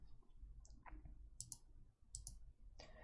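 Keys tapped on a computer keyboard in short irregular bursts of clicks, close and fairly quiet, over a low background hum.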